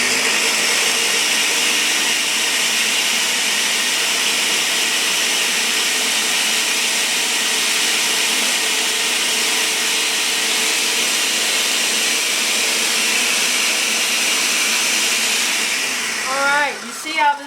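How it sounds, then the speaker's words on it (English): A kitchen blender whirring through cilantro, garlic and mango papaya salsa ingredients for shrimp tacos, a loud, steady high whine sustained for many seconds before winding down with a brief sputter at the end. "Now I'm going to throw it in the blender and I'm going to mix it all up before I add in my olive oil"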